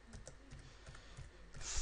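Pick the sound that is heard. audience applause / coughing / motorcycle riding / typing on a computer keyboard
typing on a computer keyboard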